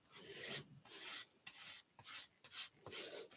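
Something is rubbed by hand onto a wooden cheese board in a series of soft, rhythmic scraping strokes, close and quiet, with no speech.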